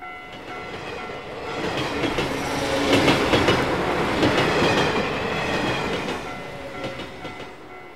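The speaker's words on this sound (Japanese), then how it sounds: "目の前を列車が何台も何台も通り過ぎていき" A train in an anime scene rumbles past a level crossing with rhythmic clattering wheels, swelling in the middle and easing off toward the end.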